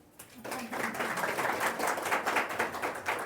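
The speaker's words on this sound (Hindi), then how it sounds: "ताली तो बजा।" Audience in a hall during a Brahma Kumaris spiritual talk breaks into applause, a dense burst of clapping that starts abruptly after a short pause and continues steadily at moderate loudness to the end.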